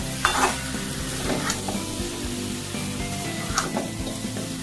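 Mutton pieces are stirred and fried in a pan during slow cooking, giving a continuous sizzle with repeated scraping and clattering strokes of a spoon against the pan, close and fairly loud, with no talking.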